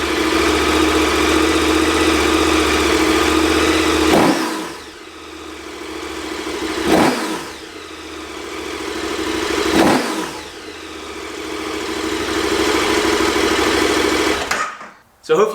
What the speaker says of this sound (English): let's get it started back up and you can hear what it sounds like with the Rottweiler Airbox installed